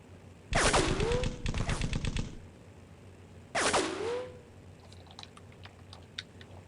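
Vehicle-mounted guns fire in short rapid bursts in the Darkwind video game, three sharp rattling volleys close together, followed by faint scattered clicks.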